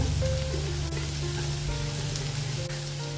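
Finely chopped carrot and capsicum frying with onion in a pan, a loud, even sizzle right up close with faint tonal hums beneath and a couple of soft clicks, no voices.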